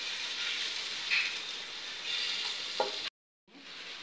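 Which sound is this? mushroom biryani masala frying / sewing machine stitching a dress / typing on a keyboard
mushroom biryani masala frying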